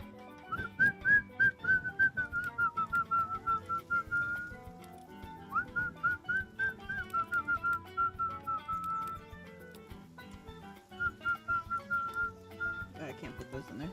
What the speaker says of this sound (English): Can you whistle?